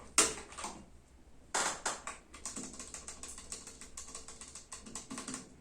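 Typing on a Keychron K1 V4 keyboard with brown tactile switches, a close run of crisp clacking keystrokes in irregular bursts with a few louder strikes, no talking.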